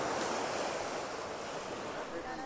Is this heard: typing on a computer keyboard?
no